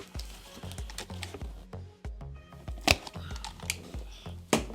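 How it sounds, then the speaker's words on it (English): A knife slices through packing tape on the box of a Mac Mini mount, giving a quick run of sharp scratchy cuts and taps with rustling cardboard, close and clear, with no talking. "Cut the tape and we'll crack the box open."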